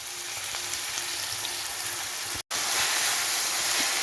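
Bitter gourd and potato stir-frying in oil in a pan for a Kerala-style mezhukkupuratti, a loud, steady close sizzle that drops out for an instant midway and then carries on.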